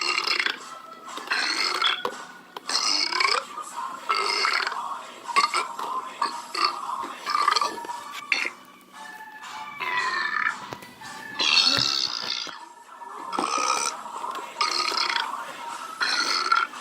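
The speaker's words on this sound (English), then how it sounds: "That's singing and burping." A man burping repeatedly and loudly at a Rubik's Cube club, long drawn-out belches in irregular bursts mixed with sung sounds, close and prominent, with a few faint clinks in between.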